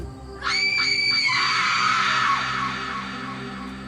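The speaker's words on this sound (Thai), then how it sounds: "มีกรีดร้องเรียกญาติพี่น้องมาดู" A woman in a dramatised Thai ghost story lets out a loud, piercing scream that breaks into short pulses, then holds a long wail that fades over about three seconds.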